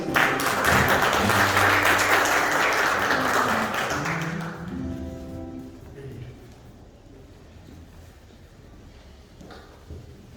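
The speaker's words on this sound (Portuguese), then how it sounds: "Uma salva de palmas para Jesus." A church congregation applauds during a worship service, a loud wash of clapping for about four seconds that fades out while a voice takes over.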